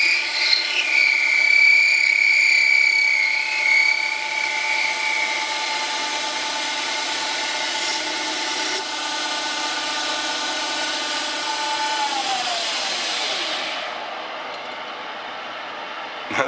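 An Arduino-controlled CNC lathe takes a light 100-micron finishing pass on a ball radius, a close, steady mechanical drone with whining motor tones that shift in pitch before winding down near the end, with no voices.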